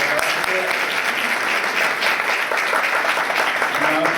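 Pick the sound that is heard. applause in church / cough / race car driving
applause in church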